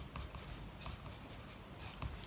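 Dry, close scratching of an espresso-brown watercolour pencil across a Stampin' Up floral card, steady soft strokes with a few firmer pulses, quiet and alone.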